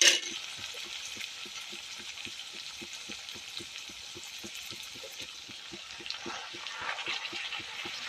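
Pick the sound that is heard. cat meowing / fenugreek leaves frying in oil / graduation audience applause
fenugreek leaves frying in oil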